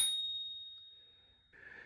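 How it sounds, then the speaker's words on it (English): The bell on a Mototec 853 Pro electric scooter gives one clear, high metallic ding that rings out and slowly fades, followed by a faint rustle. "here's your bell"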